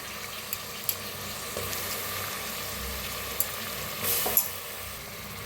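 Peas, peanuts, moth beans and potato fry in hot oil with a steady sizzle, broken by a few soft stirring knocks.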